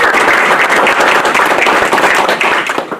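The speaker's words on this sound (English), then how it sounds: "We should give a round of applause to Astrid, who is their advisor, because the" Close, loud round of applause at a school board meeting, dense continuous clapping from a small group that holds steady before starting to fade at the end.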